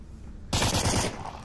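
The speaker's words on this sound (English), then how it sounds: "Some suppression fire" Suppression gunfire in the Onward VR shooter game: a loud, sustained burst of rapid automatic fire that starts abruptly, holds for about half a second, then cuts off into a fading tail.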